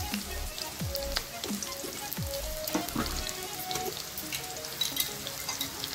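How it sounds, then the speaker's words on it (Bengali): Chopped garlic and green chili fry in hot oil with a steady, close crackling sizzle and a few light clinks of a utensil, with no voices. "গরম তেলে দিয়ে দিচ্ছি কুচনো রসুন আর কুচনো কাঁচা লঙ্কা।"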